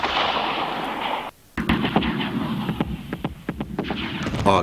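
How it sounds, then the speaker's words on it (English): Fireworks bursting over Okinawa at night in August 1945, a windy, rumbling roar followed by a rapid series of sharp cracks and pops, loud and irregular. "fireworks light up the sky over Okinawa"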